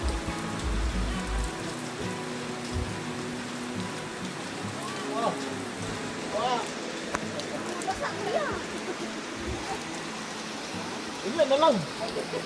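Steady rain patters down on a campfire by a river with a soft hiss, while voices talk intermittently over it.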